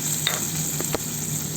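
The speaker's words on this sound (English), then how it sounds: "You can hear the sizzling sound" Hot tempering of mustard seeds, curry leaves and shallots poured onto a Malvani fish curry sizzles and crackles steadily, with a few sharp pops and stirring clinks close by.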